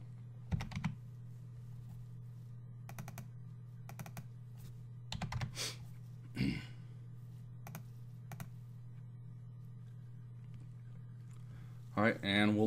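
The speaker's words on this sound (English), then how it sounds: "So I'll just type that time in." Keystrokes on a computer keyboard as a time is entered into trading software, arriving in short clustered bursts with pauses between them over a steady low electrical hum.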